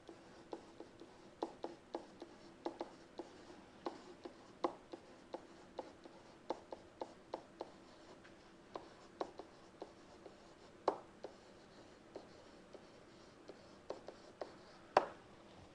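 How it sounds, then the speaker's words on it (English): Chalk or a pen taps and scratches in short, uneven strokes on a board during a probability lecture. The strokes are faint and close, and no one speaks. "Let me just write that down."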